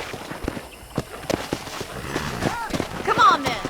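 Horse hooves clip-clop at a walking pace in the video game Red Dead Redemption, sharp evenly spaced hoof strikes under talking voices and a brief snort or whinny near the end.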